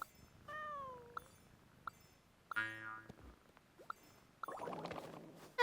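A cat meows in the Genshin Impact video game, a drawn-out falling meow followed by soft clicks, a springy boing-like effect and a brief rustling burst.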